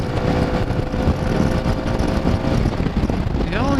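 An adventure motorcycle accelerating hard in sixth gear from about 100, its engine droning under a steady rush of wind and road noise; a voice talks over it and a rising whine appears near the end.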